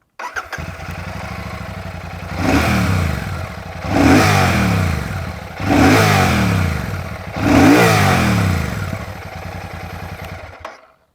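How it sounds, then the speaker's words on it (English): A Royal Enfield Shotgun 650 motorcycle engine idles with a deep, bassy exhaust note, then revs up four times in a row, each rev swelling loud and falling back to idle. "let's check out the exhaust note of the Shotgun 650"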